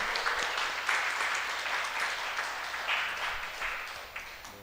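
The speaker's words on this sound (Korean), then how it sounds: "박수 한번 쳐주시죠" A church congregation at a Sunday Eucharist applauds the choir conductor and musicians, a steady wash of many hands clapping at moderate distance, even and continuous before tapering slightly at the end.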